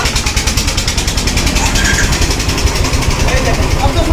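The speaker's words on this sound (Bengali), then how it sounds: "দেখুন tick tick tick tick tick tick sound আসতেছে" A Royal Enfield motorcycle engine runs steadily close by with a rapid, even mechanical ticking from an engine fault, while someone talks over it.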